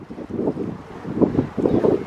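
Gusty wind buffets the microphone in low rumbling bursts beside an old lock on the Erie Canal, rising and falling irregularly, with no voices.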